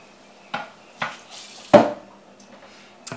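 A cutting board being pulled out and handled in a home kitchen: several sharp, close knocks and clatters spaced unevenly apart, with a louder bang near the middle and quiet gaps between.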